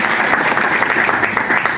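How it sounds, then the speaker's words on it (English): Steady applause fills a press conference for a new head coach, dense clapping held at an even level with no pauses throughout. "I'm going to give you a round of applause"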